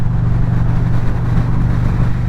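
Motorcycle exhaust through new aftermarket pipes on a windy road ride, a steady low engine drone mixed with heavy wind rush, continuous and loud with no talking.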